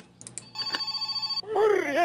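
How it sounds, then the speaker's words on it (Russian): A telephone rings in the video game My Summer Car, a short chiming ring followed by a sustained buzzing electronic ring pulsing rapidly, then a voice begins speaking over it. "Нам кто-то звонит."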